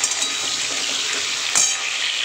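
Pumpkin and potato curry cooking in a pan on a home stove, giving a loud, continuous close hiss and sizzle with a faint scrape partway through and no voices.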